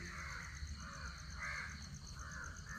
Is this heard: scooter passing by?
no